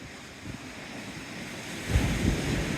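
Rough, wind-whipped sea breaking against the Teignmouth seawall, a steady roar of surf with gusty wind buffeting the microphone and a louder wave crash near the end, no voices.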